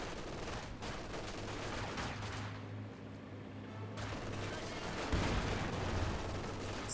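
Gunfire from the World War II strategy game Company of Heroes 2 crackles in scattered shots and bursts over a low rumble of battle, fairly quiet, with a commentator talking.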